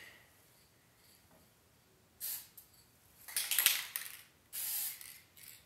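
Several short bursts of clear-coat spray paint hissing from an aerosol can close by, separated by brief pauses, with faint clicks between them.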